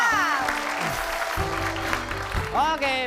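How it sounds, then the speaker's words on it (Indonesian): Studio audience applause on a television comedy show, a continuous dense clapping wash beneath a host speaking loudly over it, with a brief musical sting and voices at the edges. "Tepuk tangan dulu untuk Mas Soal."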